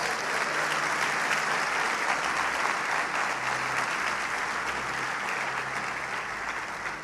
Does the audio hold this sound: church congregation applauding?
yes